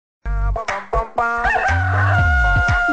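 A voice imitates a rooster's crow, a loud, close, drawn-out call that rises and then holds with no other sound.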